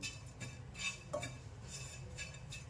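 Grated coconut dry-roasting in a pan with no oil, giving a soft, steady rustle and faint scraping as it is stirred, with a few light clinks of a spoon against the pan.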